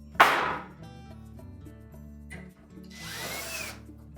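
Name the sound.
power drill driving retaining screw into range panel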